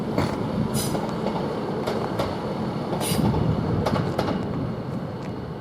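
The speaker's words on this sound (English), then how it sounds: "we are getting this this train coming through now, which is 153 inspection train." A Class 153 inspection train rumbles steadily through Grantham railway station at close range, wheels clattering over the rails with occasional high metallic squeals cutting through the noise.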